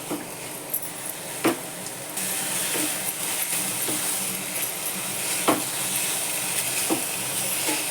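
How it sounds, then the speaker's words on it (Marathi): Lumps of jaggery go into a pan of cooking amla preserve: a soft, steady simmering hiss rises partway through, with a few dull knocks from the pan and the spoon. "आता हा बघा हा गुळ घालते मी"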